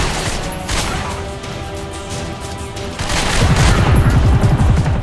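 Rapid bursts of gunfire in the video game The Darkness crackle continuously and loudly, intensifying into heavy overlapping volleys toward the end.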